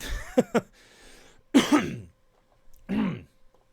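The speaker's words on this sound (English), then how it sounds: "Just clearing my throat" Several rough throat-clearing bursts up close: a quick double rasp, then a longer gravelly one, and a final grunt after a short pause.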